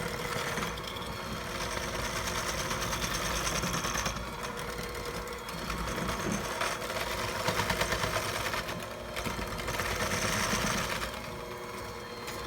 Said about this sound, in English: we are going to continue to blend at medium speed, about 4 to 5 minutes